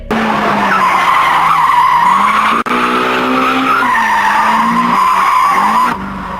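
Keiichi Tsuchiya drifts his Toyota AE86, with sustained loud tire squeal and skidding over a straining, revving engine whose pitch rises and falls through the slide, broken by one sharp cut near the middle.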